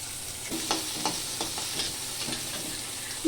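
Chopped onion and dried chillies fry in a pan while a spatula stirs them, giving a steady sizzle punctuated by rhythmic scraping strokes about every half second.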